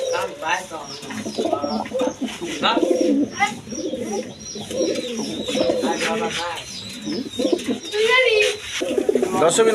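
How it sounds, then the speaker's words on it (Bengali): A pair of tank-type high-flying pigeons coo repeatedly and close by in a loft, their deep rolling calls mixing with someone talking over them throughout. "এখানে আরেক পেয়ার টাঙ্কি কবুতর আছে দেখেন দেখেন নটটা খুব ডাকা ডাকা করতেছে"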